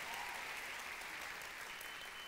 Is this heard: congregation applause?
yes